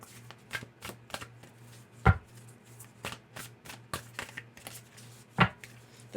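A tarot and oracle card deck being shuffled by hand, a series of soft riffling bursts and taps close up, with two sharper cracks where the cards snap together, and no talking.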